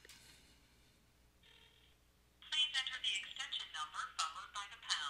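An iPhone dials into a conference call: a quiet stretch with faint tones gives way to a loud, rapid run of dialing beeps and chirps that continues to the end.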